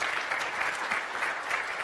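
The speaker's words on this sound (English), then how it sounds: "Please, another round of applause." Conference audience applauding at a Node.js developer event, steady dense clapping from a large crowd throughout, fairly distant and even in level.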